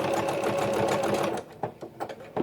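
A sewing machine runs a wide zigzag stitch while coiling rope into a fabric bowl, a close, busy whirr for about a second and a half, then a few short stop-start bursts.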